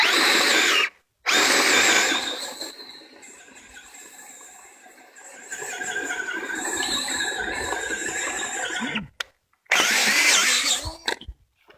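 Drill boring a hole through a knotty timber tie beam for a timber frame, a loud close whine that starts and stops, then drops into a lower, strained grinding run before revving again, without voices.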